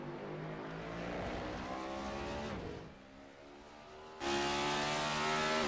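The engine of a NASCAR Next Gen race car at the Circuit of the Americas in iRacing roars as it revs up and down through gears, easing briefly before a sudden loud full-throttle burst, with no voices.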